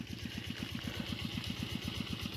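A single-cylinder walking tractor ploughing a ratoon sugarcane field while fertilizer is being applied, giving a steady, fast chugging beat that stays close and even throughout with no talk.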